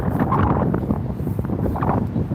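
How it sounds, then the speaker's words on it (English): Gale-force wind buffeting a microphone on a pier walk, a continuous low rumbling roar with gusty swells and no voices. "apologies, it has been a bit windy"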